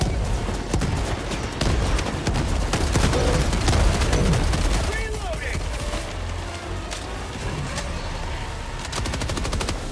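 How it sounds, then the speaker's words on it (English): Machine gun fire in the video game Helldivers 2, loud, sustained rapid bursts with booming impacts, pausing briefly midway before rattling again, under in-game noise. "I'm gonna get my machine gun"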